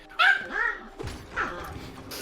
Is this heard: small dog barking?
yes